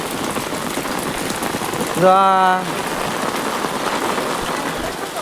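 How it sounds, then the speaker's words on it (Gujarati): Heavy monsoon downpour in a Gujarat village, dense and steady as it drums on surfaces, with someone briefly speaking over the constant hiss. "એટલો બધો વરસાદ આવ્યો છે."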